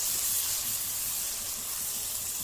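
Tomatoes sautéing in a pan for South Indian sambar, a steady, even hiss and sizzle heard up close and without pause, with no talking over it.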